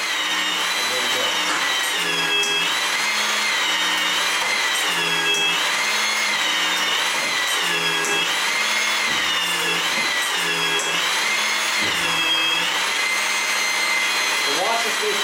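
A HYTORC nut tightening tool runs steadily after its button is pressed, giving a loud, continuous whirring drone that rises and falls in pitch in repeated cycles throughout, with no talk over it.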